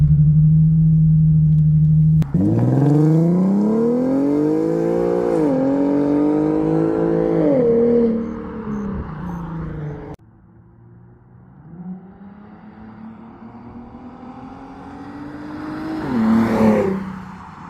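An Infiniti Q50 with a Remark axle-back exhaust revs hard. A loud, rising engine whine climbs in pitch, drops back, then surges again in repeated pulls before fading to a lower drone.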